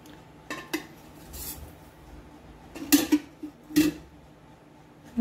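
Metal cookware clatters on a gas stove as a wok is set down and oil goes in, with a few sharp clinks and scrapes spaced across a quiet kitchen.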